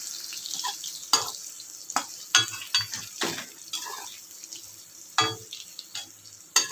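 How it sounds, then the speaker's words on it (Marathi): Capsicum (bell pepper) roasting in a pan: a soft, steady sizzle broken by sharp spatula clinks and scrapes against the pan at irregular intervals, close up, with no talking. "आणि आपल्याला चांगली लालसर भाजून घ्यायची आहे शिमला मिरची"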